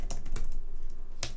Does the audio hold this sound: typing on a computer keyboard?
yes